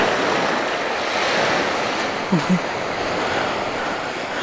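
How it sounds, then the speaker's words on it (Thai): Steady wash of sea waves and surf with wind noise throughout, a couple of brief low thumps midway. "เสียงน้ำทะเลไหม"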